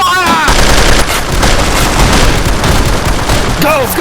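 Rapid machine gun fire rattles loud and continuous in an Army Men toy battle, a dense run of overlapping shots with brief voices and effects at either end.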